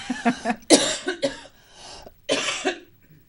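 Several coughs in uneven bursts, close and fairly loud, with a rough throat-clearing edge between short pauses.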